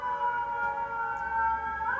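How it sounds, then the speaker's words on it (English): Emergency sirens wailing across New York City, a steady rising-and-falling tone that stays loud and continuous throughout, with no talk over it. "The sirens are going off over here in New York City."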